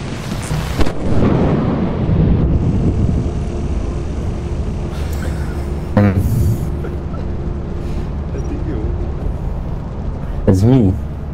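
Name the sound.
thunder and lightning strike in the video game Lethal Company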